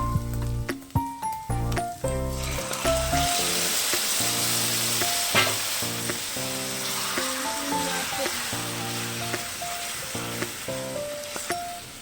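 Mutton hitting hot oil with fried onions for biryani sets off a steady, close sizzle that runs the whole time beneath tonal background music.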